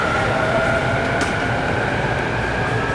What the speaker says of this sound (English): And here I am inside one of the trains.